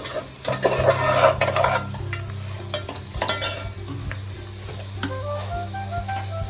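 Mutton curry masala for a Kolhapur-style village rassa fries in oil while being stirred, giving a loud, continuous sizzle broken by repeated scraping strokes of the spoon against the pot, with no voices.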